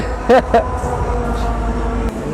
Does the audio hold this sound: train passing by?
yes